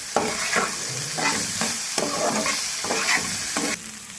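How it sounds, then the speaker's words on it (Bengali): Vegetables frying with Kashmiri chili powder and salt for a healthy vegetable bhapa pitha filling, a steady close sizzle broken by repeated scraping strokes of a spatula against the pan. "কাশ্মীরি লঙ্কার গুঁড়ো দিয়ে দেবো, পরিমাণ মতো লবণ দিয়ে দেবো, দিয়ে ভালো করে এটা ভেজে নেব"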